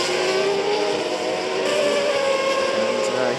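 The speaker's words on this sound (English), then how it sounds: "Kelly LaRosa moves offline to allow Kishpal Tamas to go by." Auto GP race cars run on track at the Hungaroring, their engines producing a continuous loud roar with shifting pitch as they pass, under race commentary.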